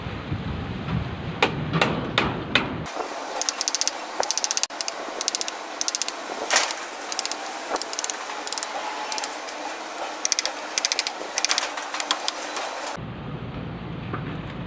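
Rapid metallic tapping and clicking, dense and mechanical, runs for about ten seconds between quieter stretches, close and fairly loud, with no talking.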